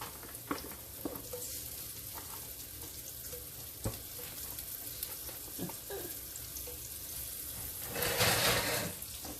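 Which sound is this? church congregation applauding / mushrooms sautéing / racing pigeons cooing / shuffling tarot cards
mushrooms sautéing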